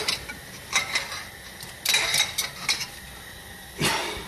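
A socket wrench works on tight front hub bolts of a Dodge Ram 4x4, giving a few short metallic ratcheting and clanking bursts separated by brief pauses, fairly close and with no talk.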